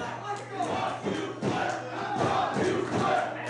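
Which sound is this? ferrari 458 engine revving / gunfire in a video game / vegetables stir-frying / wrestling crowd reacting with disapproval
wrestling crowd reacting with disapproval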